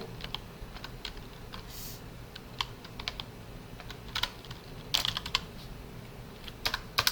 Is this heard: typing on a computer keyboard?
yes